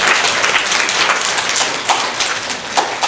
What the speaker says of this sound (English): Give her an applause, please.